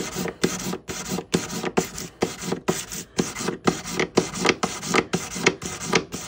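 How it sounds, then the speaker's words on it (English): Hand sanding of a platinum ring during resizing, a steady back-and-forth rasping with about fourteen rhythmic strokes, close and fairly loud with no talking. "see how long it takes platinum to sand?"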